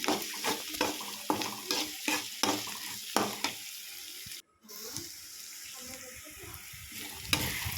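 Raw mango rice seasoning with turmeric powder fries in a pan, a hissing sizzle broken by a quick run of rhythmic stirring scrapes, a brief dropout, then steadier sizzling with soft knocks.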